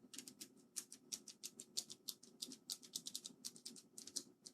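A keyboard with Cherry MX Blue switches gives off a rapid, uneven run of crisp clicks as keys are pressed repeatedly, fairly faint and close, with no talk.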